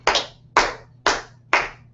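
An audience at Orlando Nerd Fest 2014 claps a steady beat for a rapper: four sharp, evenly spaced group claps about half a second apart, close and loud, with no voices.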